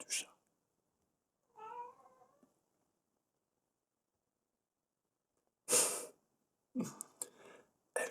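A tabby cat gives a short meow, then a few breathy sneeze-like bursts follow after a long silence, all close and soft in a quiet room.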